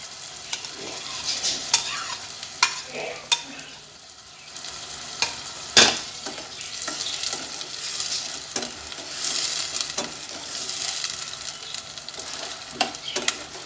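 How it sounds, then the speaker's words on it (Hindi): Chopped tomatoes frying and being stirred in a pan while making soft kofta curry, a steady close sizzle broken by frequent scraping clicks of a spoon, with no talking. "अब जो टमाटर हमने कट करके रखे हैं वो हम इसमें शामिल कर देंगे"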